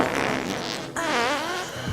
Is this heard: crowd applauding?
no